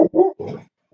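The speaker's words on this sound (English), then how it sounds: "Sorry about the dogs." Dogs barking close by in a short burst of three rough, grunting barks within under a second, with no talking.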